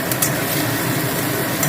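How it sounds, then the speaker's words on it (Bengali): Boal fish frying in a pan for a spicy curry, a steady close sizzle with a few faint stirring scrapes near the start and end, no talk. "মাছটা ভাজা ভাজা হোক।"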